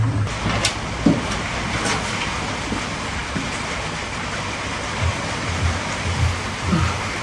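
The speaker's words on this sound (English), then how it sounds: "Sorry about the noise of the storm on the roof," Storm rain drums steadily on a workshop roof where car shock absorbers and inner wings are being fitted, a dense, even wash of noise with occasional heavier thuds.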